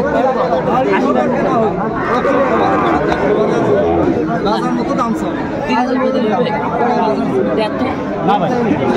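A busy crowd at Aftabganj cattle market, where Sahiwal bulls and calves are bought and sold: loud, continuous overlapping chatter from many nearby voices blending into an unbroken babble.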